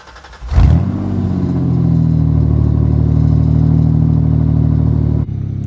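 A Ford Ranger pickup engine cranks and fires up with a sharp burst, then settles into a loud, deep, rumbling idle from the exhaust before cutting off near the end.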